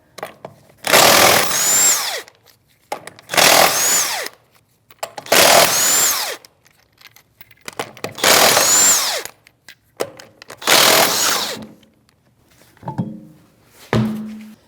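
A power impact tool with a 19mm socket zips off the lug nuts of a rear tire on a 2016-2025 Chevrolet Malibu. Five loud, close, whirring bursts, each about a second long, are separated by pauses, followed by a couple of metallic clunks.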